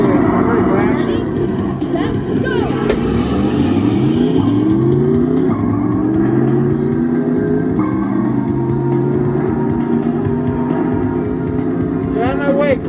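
Loud, continuous engine roar and revving of cars racing and crashing in an arcade driving game at a game truck party, with rising and falling engine pitches sweeping across and sharp impact sounds; background voices chatter throughout.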